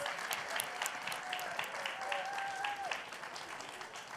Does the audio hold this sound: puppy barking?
no